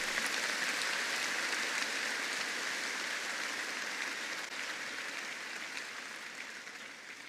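A church congregation claps loudly and steadily throughout, a dense, continuous wash of applause that fades only slightly toward the end, with no clear speech over it.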